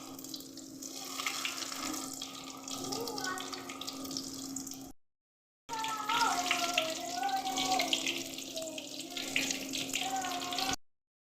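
Continuous sizzling hiss of potato pakoras frying in hot oil, steady and close, broken by one short silent gap, with a faint voice underneath.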